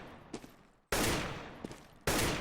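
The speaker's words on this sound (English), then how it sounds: "That's 10 bullets, but I only want you to shoot 5 bullets at a time, okay?" Two sharp bursts of rapid gunfire from a video game gun, each starting abruptly and loud, then tapering off, with a short quieter gap between them and no talking.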